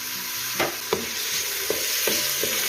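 Onions sizzle steadily in a hot oiled pan while being fried for borscht, with a constant frying hiss broken by several distinct stirring scrapes at irregular intervals.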